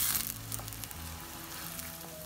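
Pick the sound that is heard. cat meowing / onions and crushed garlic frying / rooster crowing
onions and crushed garlic frying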